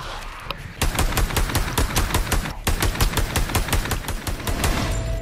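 Rapid automatic Uzi fire in the Pavlov VR shooter game on PSVR2, loud, close bursts of evenly spaced shots that run almost continuously, with two short pauses.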